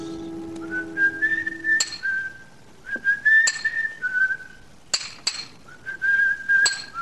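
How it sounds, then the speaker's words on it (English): Cheerful melodic whistling in short rising and falling phrases at a stonemason's yard, with sharp metallic clinks and hammer taps cutting in at intervals. "From the yard itself came a cheery whistle"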